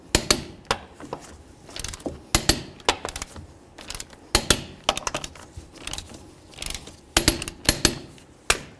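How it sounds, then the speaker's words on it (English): Torque wrench tightening wheel lug nuts to 100 foot-pounds on a 1994-2004 Chevy S-10, heard as a close series of sharp metallic clicks and knocks in irregular clusters, with no talking. "All right, let's torque these to 100."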